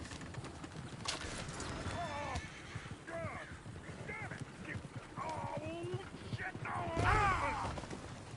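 Horse hooves clop steadily in a video game over a noisy outdoor scene, with birds chirping and whistling throughout and a louder burst near the end.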